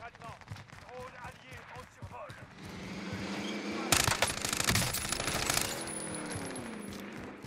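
Enemy gunfire in a Warzone match, rapid automatic bursts crackling from mid-clip onward, fairly close and dense, with people talking over it.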